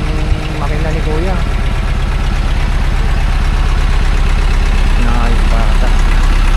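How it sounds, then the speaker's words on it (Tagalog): A motorcycle engine runs loud and steady with a constant throbbing drone, close by on a winding uphill road, while a voice talks over it. "Lakas ng makina ni kuya."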